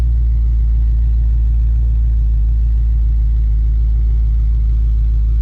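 Hemi 6.4 V8 with an upgraded cam settling into a smooth idle, a steady loud low rumble holding even throughout with no revving.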